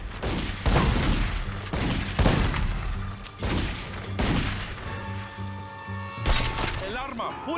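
Repeated gunfire bursts from a non-shotgun weapon in The Godfather 2 game, loud and rhythmic, with several shots over music and game sounds and a short lull near the end.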